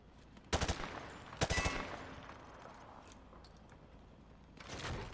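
Weapon fire from a training demonstration in Call of Duty Modern Warfare 2 Campaign Remastered, rounds punching through light cover: two short, loud bursts of rapid shots about a second apart, then quiet, then a softer burst near the end.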